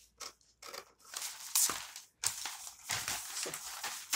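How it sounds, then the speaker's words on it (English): Scissors cutting through a paper sewing pattern for a bustier top, giving a series of close crisp snips and papery crunches in an uneven rhythm, with no talking. "I'm cutting."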